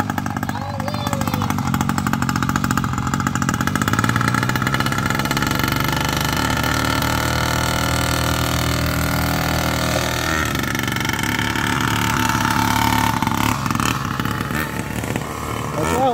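The small engine of a mini Grave Digger ride-on monster truck runs nearby with a buzzy, motorcycle-like drone that holds steady and rises and falls slightly throughout.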